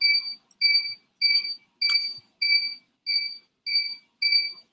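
An electronic buzzer on a robotics board beeps eight times in a steady, evenly spaced rhythm, each beep a short shrill tone, close and alone without talking.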